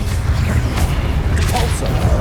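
The Incendio fire spell is cast in Hogwarts Legacy, producing a loud, deep whooshing burst with a rumbling low roar that holds steady for a couple of seconds.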